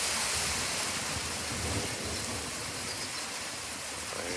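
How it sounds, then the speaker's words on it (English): Steady rain pours down outdoors on a rainy day, a dense, even hiss of falling water that holds at constant loudness with no voices over it. "it's a rainy day"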